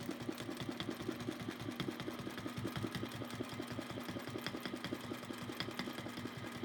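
A domestic sewing machine machine-quilting with oval rulers and glide thread runs in a fast, steady mechanical chatter of needle strokes, even and moderately close with no talking.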